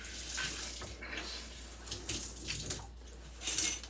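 Water running steadily from a tap or hose while a dog is being bathed, a continuous moderate splashing rush with small surges and no voices.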